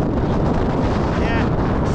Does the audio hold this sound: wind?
yes